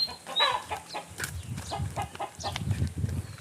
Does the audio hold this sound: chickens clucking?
yes